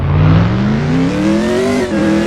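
A Dodge Camaro engine revs hard in the Car Driving Ultimate video game, loud and continuous, its pitch climbing steadily with a brief dip near the end. No one speaks.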